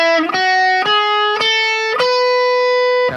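An overdriven electric guitar runs up the B Mixolydian mode in steady single notes roughly half a second apart, each ringing with dense harmonics, loud and up close with no talking.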